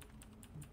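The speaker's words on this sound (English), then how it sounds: "Clapping the shit out of that keyboard" Keys clatter on a computer keyboard in a quick burst of close, hard taps, evenly spaced through the short moment.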